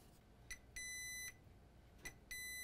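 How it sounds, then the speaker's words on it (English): Multimeter in diode mode beeping while probing the power MOSFETs on an Asus G74S laptop board with a short: short clicks, then two sustained electronic tones of about half a second each, fairly faint and with no talk. "Meter in diode mode."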